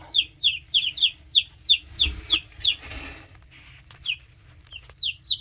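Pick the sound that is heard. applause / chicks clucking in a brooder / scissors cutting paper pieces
chicks clucking in a brooder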